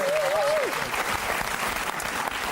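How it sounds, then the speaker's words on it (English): A studio audience at a Christmas comedy quiz show breaks into loud, continuous applause, with a brief whistle at the start and the clapping holding steady to the end. "Ladies and gentlemen, a round of applause for Denise Scott."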